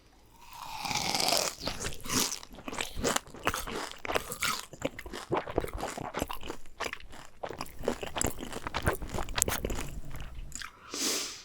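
Close, loud crunching as a Dubai chewy cookie, chewy outside and crisp inside, is bitten and chewed, with rapid crackly bursts repeating steadily and no talking.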